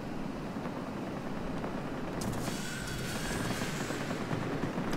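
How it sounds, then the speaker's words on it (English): Aircraft rockets loosed in World of Warplanes from a J 21RB fighter, heard as a dense, continuous roar of rumbling bursts and crackling fire over steady engine noise, with sharper high hiss joining partway through. "Let's go ahead and let's use all our rockets"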